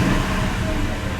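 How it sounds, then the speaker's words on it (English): A Ford Crown Victoria police car's engine idles and revs briefly, a steady low rumble held for a moment without speech. "And now let's give her a little rev."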